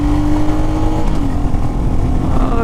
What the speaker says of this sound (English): classic Royal Enfield exhaust note